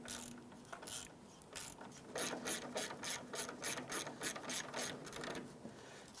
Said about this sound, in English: I'm going to switch over to our ratchet.